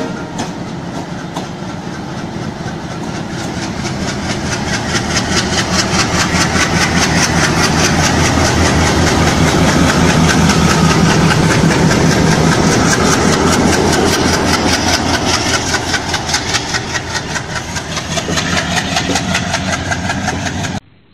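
A diesel locomotive of the Jalna Jan Shatabdi Express running at a station, a loud, steady, close rumbling drone with a faint rhythmic pulse throughout and no speech.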